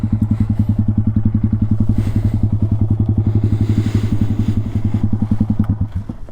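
A small air-cooled 2022 Honda Grom motorcycle engine idles close by with a rapid, even putter, steady and unbroken throughout.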